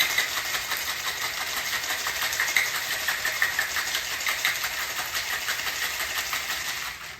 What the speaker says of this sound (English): So I have a cobbler shaker. I'm just gonna shake this up to where it's chilled.